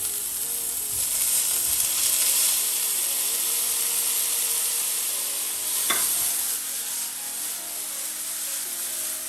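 Steady, loud sizzling of chanterelle and porcini mushrooms frying in a pan, with occasional stirring scrapes and a single clink partway through.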